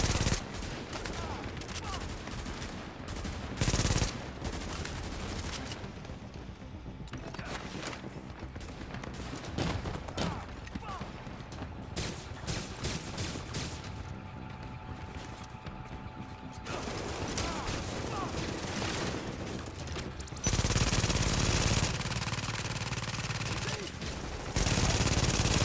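Video game gunfire in The Division, with repeated bursts and rattling automatic fire through most of the stretch, growing louder and denser toward the end, with a voice talking over parts of it.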